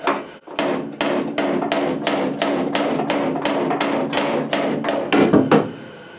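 Small round-faced hammer knocking a dent out of the sheet-metal cab corner of a Chevy C10 pickup, a steady run of about fifteen sharp, ringing metallic blows close by, with no talking.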